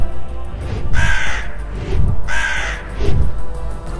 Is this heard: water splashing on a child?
no